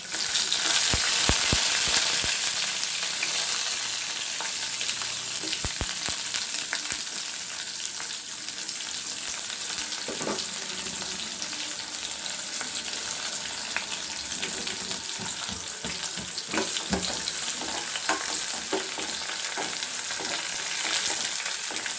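Chopped onion with a pinch of fennel seed frying in a pan for a brinjal poriyal, a steady close sizzle with scraping stirs and clicks throughout.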